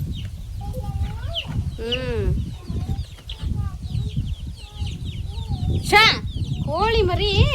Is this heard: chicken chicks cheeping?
yes